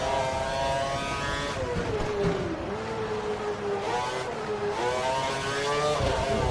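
An HRT Formula 1 car in a racing video game set at Spain 2012 screams at high revs on the start-finish straight, its pitch dropping through a downshift then climbing again, with other cars' engines layered loudly around it.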